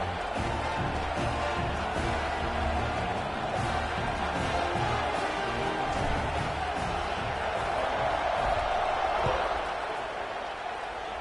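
A stadium crowd roars in College Football 26 during a Michigan vs Nebraska game, a steady dense wall of cheering and murmur that holds for the full stretch before easing slightly at the end.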